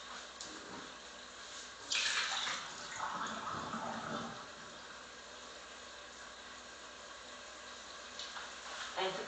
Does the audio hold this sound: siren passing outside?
no